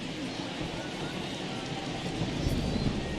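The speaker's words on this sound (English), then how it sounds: "Really starting to pour now, and the forecast is not showing any signs of a break in the weather." Heavy rain pours onto a baseball field during a game, a dense, continuous hiss of drops that swells slightly toward the end, with no talking.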